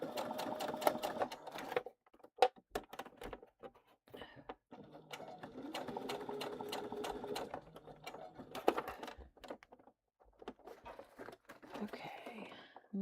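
A sewing machine stitching fabric runs in fast mechanical bursts, stopping and restarting several times, close and clear with brief quiet gaps between runs.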